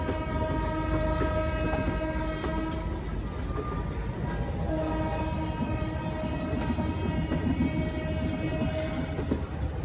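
A Yuva Express train stands at Prayagraj Junction, with a steady loud rumble of rail noise, sustained horn-like tones and a busy station background.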